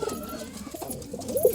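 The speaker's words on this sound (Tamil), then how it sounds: "அப்படி மேலே கர்ணப்புறா." A roller pigeon coos softly nearby, low throaty notes rising into a clearer coo near the end, with faint background hiss and no talking.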